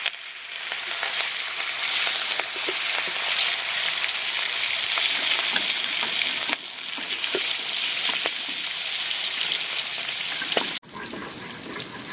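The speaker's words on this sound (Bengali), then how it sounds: "এবার মাছটা হালকা করে ভেজে নেব। তেলটা গরম হয়ে গেছে, দিয়ে দেবো।" Silver carp fish frying in hot oil, a steady loud sizzle and crackle that runs throughout with small pops and a brief break midway, no voices.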